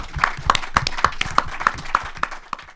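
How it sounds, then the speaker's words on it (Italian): A small crowd claps together, a steady patter of hand claps lasting a few seconds at moderate volume. "io propongo un applauso a Raffa Fallone"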